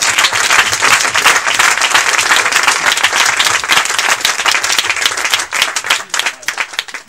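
A church congregation in Côte d'Ivoire bursts into loud, sustained applause to acclaim Jesus, a dense wash of many hands clapping that thins and grows more ragged near the end.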